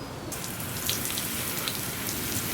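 A garden hose is turned on to flush water through an RC boat's cooling system and exhaust manifold, giving a steady, close hiss of running, spattering water that fills the whole clip after a brief quieter start.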